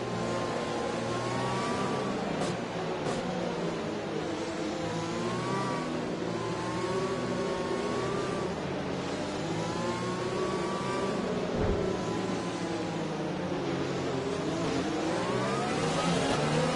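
Several race cars in a racing video game accelerate together as the field restarts behind the safety car, a steady loud engine drone with rising and falling revs throughout.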